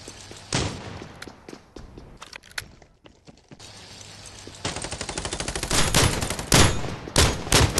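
Gunfire in a shooter video game: scattered single shots give way to dense, rapid automatic bursts that grow louder and more continuous toward the end, with no talking.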